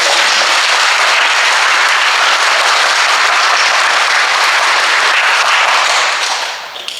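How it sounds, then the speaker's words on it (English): Audience applause for a student leader, a loud, dense roar of clapping sustained for about six seconds before fading out. "So give him another round of applause"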